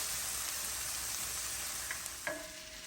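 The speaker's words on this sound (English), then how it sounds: "So we're going to let those fry until they are translucent" Onions frying in a pan until translucent and wilted for a shrimp dish, giving a quiet, continuous sizzle with a couple of faint utensil taps near the end, no voices.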